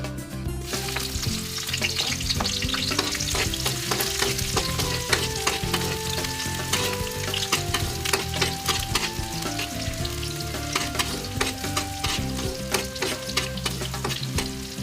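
Onions sautéing in cooking oil at the start of a lomi, a dense, crackling sizzle running the whole time under loud background music.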